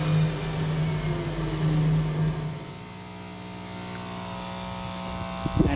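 A steam turbine in a Rankine-cycle power plant test setup, running near 3000 RPM under light load, is throttled back: a loud steady mechanical whine and hum that drops in pitch and level partway through, with a brief clatter at the end.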